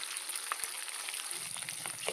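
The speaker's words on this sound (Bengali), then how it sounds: "এভাবে আমি বাকি সব মাছগুলো ভেজে নেব।" Magur catfish pieces frying in hot oil in a pan, a steady close hiss and crackle with small pops scattered through, fairly quiet and alone.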